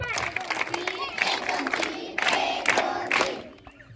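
Primary school children at a village school clap and shout together in a noisy classroom, bursts of group clapping and cheering with excited young voices over it.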